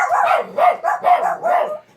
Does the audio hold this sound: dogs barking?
yes